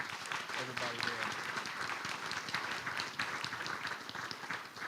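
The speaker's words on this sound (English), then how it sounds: "So let's just give a round of applause to everybody there." Audience applause fills a school board of education meeting, a steady dense clapping that holds evenly loud throughout, with a few voices briefly audible at the start.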